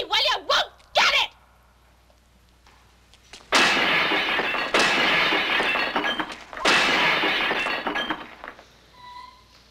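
Glass breaks in a dramatic scene: a few sharp clinks and knocks at first, then after a pause two long, loud bursts of crashing and shattering.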